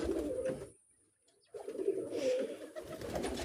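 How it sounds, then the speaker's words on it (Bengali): Domestic pigeons coo outdoors in soft, close, repeated low calls, broken by a short quiet gap before the cooing resumes. "এই যে আমার সুন্দর কবুতরগুলো"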